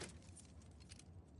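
In The Last of Us Part II, a character jingles a set of keys while trying them in a lock, giving quiet metallic rattles over a low background hum.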